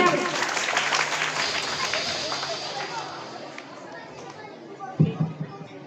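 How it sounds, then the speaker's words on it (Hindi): An audience at a school Independence Day event applauds teacher Mukesh Saini, dense clapping that gradually fades over several seconds, followed by a sharp knock and scattered chatter near the end. "अध्यापक श्री मुकेश जी सैनी के लिए जोरदार तालियां।"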